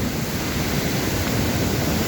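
Water rushing steadily over a waterfall, viewed from a high lookout above the falls, a dense unbroken roar heard alone with no speech.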